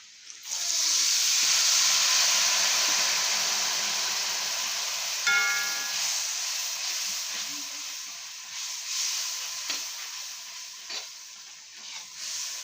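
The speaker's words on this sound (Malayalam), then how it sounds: "ഇത് വെള്ളം ഒഴിച്ചു കൊടുക്കണം കേട്ടോ" Loud hissing sizzle starts abruptly as water is poured into a hot pan of spice masala for mango pickle, then slowly settles into a softer, steady bubbling fizz with occasional pops.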